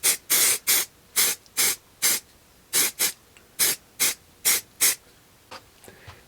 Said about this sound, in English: I'm going to take a second coat of our release spray and go ahead and spray it on there now.